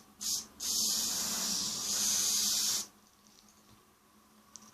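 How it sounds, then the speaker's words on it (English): Hairspray hisses from an aerosol can onto a styled wig in two bursts, a short puff and then a longer steady spray of about two seconds, followed by quiet room tone. "I hate hairspray."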